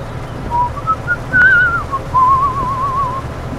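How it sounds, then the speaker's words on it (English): A person whistles a meandering tune alone, the wavering notes rising and dipping over a low hum of background noise, with no talking. "I just whistled something that's actually a copyrighted tune somewhere"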